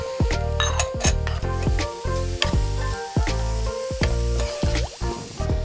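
Chopped onion and ginger sizzling in butter in a pan, a loud close crackle broken by repeated rhythmic scraping and clinking of a spoon as they are stirred.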